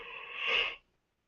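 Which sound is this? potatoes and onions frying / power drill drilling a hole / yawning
yawning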